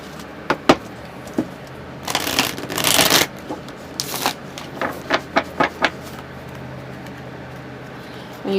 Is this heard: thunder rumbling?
no